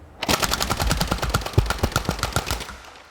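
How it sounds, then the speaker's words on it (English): A BoomCo Rapid Madness toy blaster firing fully automatic, a close, loud burst of rapid mechanical shots in an even rhythm lasting about three seconds. "it's a rapid fire. Fully automatic, at least in the first half of the magazine"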